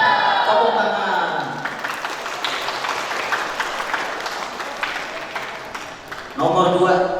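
Audience applause at a mass Quran completion ceremony for kindergarten and TPA children in Indonesia, a sustained burst of clapping from a gathered crowd that fades slightly before a voice cuts back in at the end.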